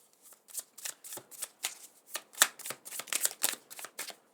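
Tarot cards are shuffled close up in a steady run of quick, crisp riffling slaps, each burst evenly spaced and fairly soft, with no voices.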